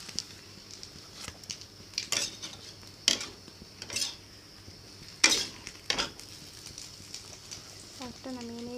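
Metal utensil scraping and tapping a pan as toasted bread slices are lifted off one by one, several sharp clinks spaced a second or so apart over a faint background hum.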